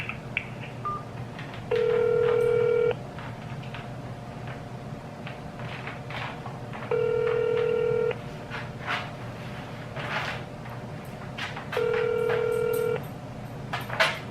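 An automated customer service phone line plays three separate steady electronic tones, each lasting about a second and spaced several seconds apart, over a quiet hum with faint background noise.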